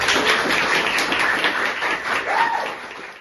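A small group claps for guests on a school podcast, a brisk burst of applause that holds steady and then thins out toward the end.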